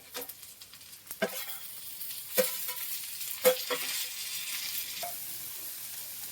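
Tomatoes and grated coconut roasting in a pan with garlic and ginger give a steady, fairly quiet sizzle, broken by a few sharp scrapes and clicks of stirring spaced through it, with no talking.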